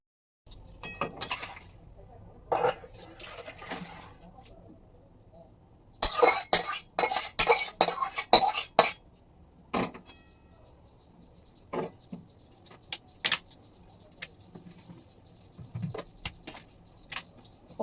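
Fish curry being taken off a gas stove in a home kitchen, with intermittent clinks and clatters of pots, lids and dishes, a dense burst of metallic rattling in the middle, then scattered knocks in a quiet room.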